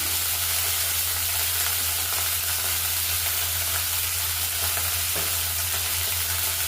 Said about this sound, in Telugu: అందుకు నేను ఫస్ట్ మెంతాకు వేయించేస్తున్నాను. ఆయిల్లో వేగిపోయిందంటే మనకు చేదు అనేది అంతగా ఉండదు.